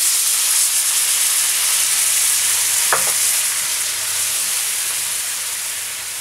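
White wine hits a hot pan of floured chicken wings, raising a loud, steady sizzle and steamy hiss that stays constant throughout, with one brief clink of a utensil midway.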